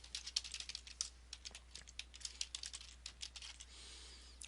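Rapid typing on a computer keyboard, a close, quiet run of light irregular key clicks for several seconds, tapering off near the end with no voices.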